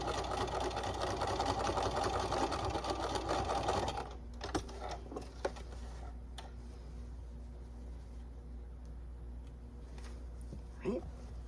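A sewing machine stitches down the lining of a trick-or-treat bag in a single loud run of about four seconds, then stops, leaving quieter background with faint handling clicks.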